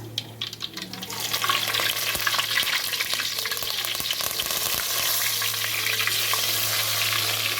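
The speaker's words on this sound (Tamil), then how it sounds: "சின்ன வெங்காயத்தை போட்டாச்சு இதை நல்லா வதங்க" Small shallots sizzle steadily in hot oil for quail gravy, a dense continuous frying hiss with occasional stirring scrapes and clicks throughout, close and loud with no talking.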